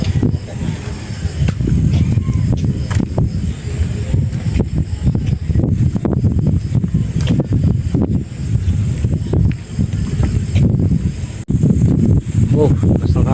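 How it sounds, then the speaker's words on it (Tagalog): Strong wind buffets the microphone at Rodriguez Nature Park in Arayat, Pampanga, a continuous loud roaring rumble with gusty swells and scattered outdoor clatter, with voices faintly underneath. "Oh, basta ng hangin."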